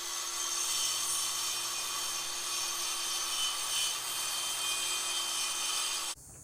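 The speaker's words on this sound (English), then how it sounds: "First thing I'm going to do is cut this side off, and we're just going to cut like an inch just to kind of clean up" A saw trims about an inch off the edge of a wooden coffee tabletop, giving a loud, steady cutting whine for about six seconds before it stops abruptly.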